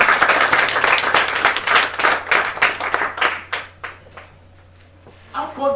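Church congregation applauding and clapping in a dense, sustained burst that gradually thins out, with scattered voices mixed in and a brief fresh clap or cheer at the very end.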